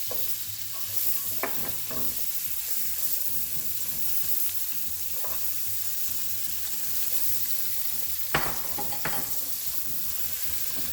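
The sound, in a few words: onions frying in butter and being stirred in pan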